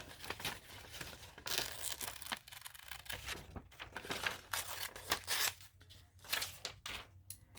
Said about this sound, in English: I wanted to cut this flower out.